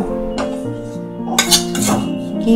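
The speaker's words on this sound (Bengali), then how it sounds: "এই অবস্থাতেই আমি এবার গ্যাস থেকে নামিয়ে নেব" A metal pan of gram flour laddu mixture is lifted off a gas stove, giving a few close metallic clinks and scrapes of pan and utensil over a short stretch.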